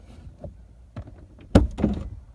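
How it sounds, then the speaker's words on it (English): An Audi TT Mk1 car door unlatches with a solid clunk and swings open, followed by a short rattling thump, close by with no voices. "I'm going to open the door."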